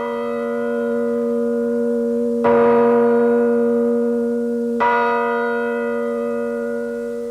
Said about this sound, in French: la cloche doit résonner et doit donner la note exacte sans retouche